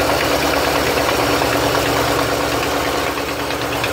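A 1984 Chevrolet C10 pickup's original 305 V8 idles just after a cold spring start with its factory electric choke, giving a loud, steady, rough rumble close by with no talking.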